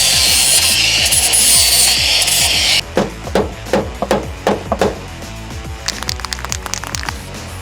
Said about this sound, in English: probably do it with the snips.